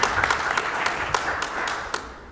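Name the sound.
audience applauding at city commission meeting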